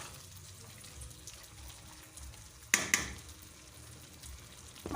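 Mutton with chopped tomato and green chili is stirred in a pan, a soft continuous sizzle with a couple of sharp scraping clinks from the spoon partway through.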